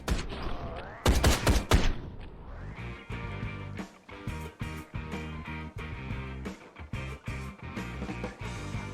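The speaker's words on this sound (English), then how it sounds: "Oh, now they shoot at me." Gunfire from enemies in the game Ride to Hell: Retribution, with a dense burst of loud shots early on and then repeated rhythmic bangs and thuds over a busy music-like game soundtrack.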